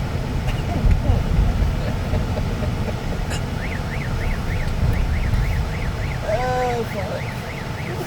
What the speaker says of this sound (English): Your alarm system's messed up.